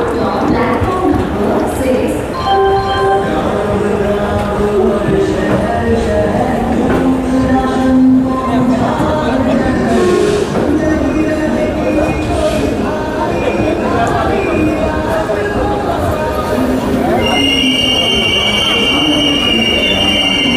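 An Amrit Bharat Express train pulls into platform 6 at Nagpur Junction, with loud, continuous rumbling, rolling wheels and metallic squeals across the whole stretch, and voices talking over the train noise.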